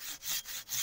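A hand saw cuts through a hard wood burl in short rapid back-and-forth strokes, close and raspy, with about four strokes in quick rhythm and no talking.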